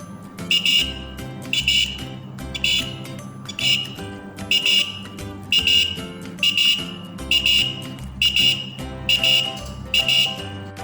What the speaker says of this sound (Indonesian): Buzzer akan berbunyi ketika sensor terkena cahaya dari remote control.